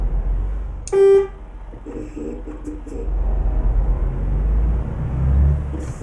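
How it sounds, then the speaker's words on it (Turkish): A single loud bus horn blast in Euro Truck Simulator 2, from a Mercedes Travego bus, about a second long, over a steady low engine rumble, followed by a few short muffled clunks. "Havalı kornamız yok ama otobüsün kendi kornası var"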